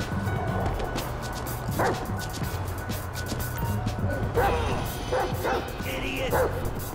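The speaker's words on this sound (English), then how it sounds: "This right here is one sick, nasty-ass motherfucking dog." Dog barking in the GTA V video game, a few short barks and yips at mid distance over constant game noise and music, with a voice talking at times.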